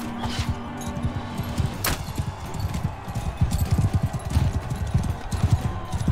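A horse gallops in the video game Mount & Blade II: Bannerlord, with quick, rhythmic hoofbeats that grow steadier and a little louder, heard fairly quietly against soft battle ambience.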